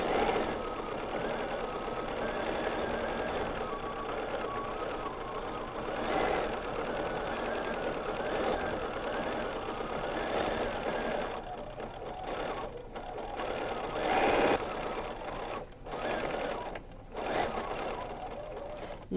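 A sewing machine stitches steadily along the seam of a quilted placemat, a continuous near whirring hum that breaks into short stops and restarts toward the end.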